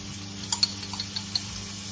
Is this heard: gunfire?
no